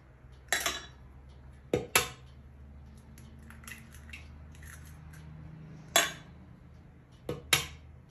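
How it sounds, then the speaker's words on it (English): Three eggs are cracked into a large bowl, giving a series of sharp, close clicks and taps of shell against the rim, spaced out with quiet pauses between the bursts. "now in a larger bowl, you're going to take 3 eggs"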